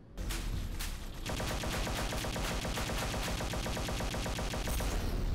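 Rapid bursts of automatic gunfire ring out in a shooting video game, dense and continuous with a steady rattling rhythm and a few sharp single shots at the start, loud and without talk.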